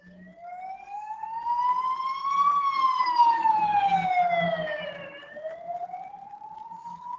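A wailing siren rises and falls in long sweeping tones, loud and fairly close, with faint traffic rumble underneath.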